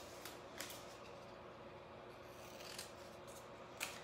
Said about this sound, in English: I'm using my stencil cutting scissors